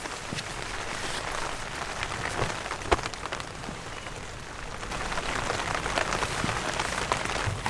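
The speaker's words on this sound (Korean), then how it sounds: "이 비가 왜 들어왔지?" Rain falls on a tent during a solo camping trip in wet weather, a dense, steady patter of drops with occasional louder taps close overhead, continuous throughout with no talking.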